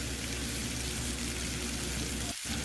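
Chicken shreds with soy sauce, pepper and sugar being stirred in a pan, giving a steady close sizzle and frying hiss throughout, briefly dipping near the end.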